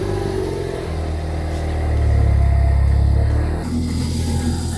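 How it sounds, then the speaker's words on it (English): A Ford Focus ST MK3 with a resonator-deleted exhaust idles, then blips into a deep, loud rev that swells for about a second and a half before settling back to a rumbling idle. "you want to start the engine up to make sure there are no leaks"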